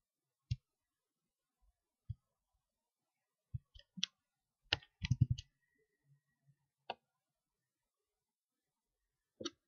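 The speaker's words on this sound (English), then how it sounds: "I'm clicking something else." Computer mouse clicks, sparse and faint, scattered single and quick double clicks across a quiet stretch with long gaps between them.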